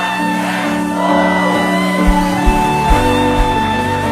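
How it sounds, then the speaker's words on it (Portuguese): Church congregation in Lisbon shouting together in unison, a loud mass of voices with a few sharp rhythmic accents toward the end. "Eu vou contar até 3 e você vai gritar"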